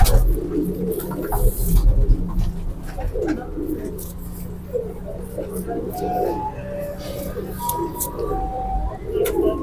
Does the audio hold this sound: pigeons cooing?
yes